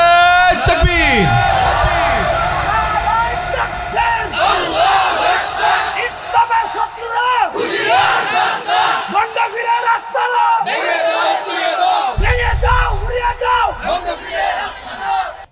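A large crowd at an outdoor religious gathering roars "Allahu Akbar" in loud repeated waves after a takbir call, with chanted shouts and cheers swelling and fading several times over about fifteen seconds.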